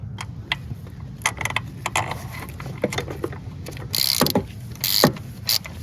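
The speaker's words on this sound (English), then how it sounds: "I'm just gonna put some red Loctite on it and just tighten it up." A bolt on a Honda Odyssey is tightened by hand with a ratchet, producing close, irregular metallic clicks and clacks, with short bursts of rapid ratcheting near the end.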